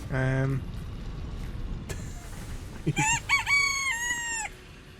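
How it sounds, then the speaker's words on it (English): Cartoonish chicken alert in the game Satisfactory: a short clucking burst at the start, then after a pause a louder rising and falling crow-like squawk, heard under ongoing background noise. "I sounded my little chicken KFC"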